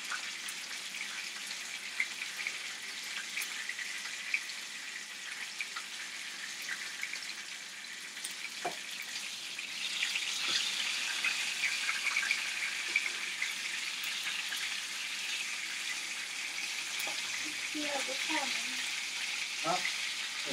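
Ribeye steak and scallops sear in a hot pan with a constant, fairly quiet sizzle that grows louder and more bubbly partway through, with a few light clinks and faint voices in the background.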